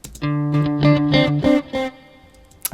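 A distorted synth-like tone with a repeating echo, each note smeared and gritty with trailing repeats before fading into near silence.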